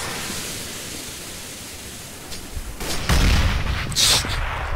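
A sniper rifle shot fired in the video game Counter-Strike: Global Offensive, a loud booming crack followed by a brief tail, standing out from steady game background noise.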